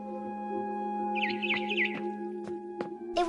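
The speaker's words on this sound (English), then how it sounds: "Then I heard chirping outside my window." Barn swallow chirping outside a window in a video game, a few quick high warbling chirps over a steady synthetic hum, with sharp clicks and a short burst near the end.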